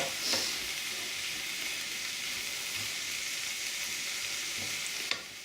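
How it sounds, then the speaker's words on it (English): Garlic, onions, leek and carrots sizzle steadily in a hot frying pan, a continuous close frying hiss with an occasional light clink of a utensil. "I'm going to add that to the frying pan now."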